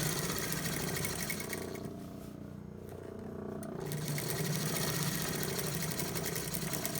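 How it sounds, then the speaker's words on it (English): A sewing machine runs a steady stay stitch along the edge of a shirt piece, with a fast even mechanical hum close by, a short slowdown in the middle, and then full speed again. "I'm probably going to stay stitch it here so that I don't, when I'm sewing the collar on, I don't completely miss this and have raw edges showing"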